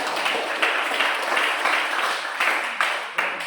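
A classroom group of students claps for a presenting group, a steady patter of many hands at moderate loudness with a few sharper bursts, no talk over it.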